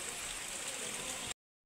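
Steady rain falling on a roadside stop along a mountain route, a continuous even hiss heard alone before cutting off abruptly.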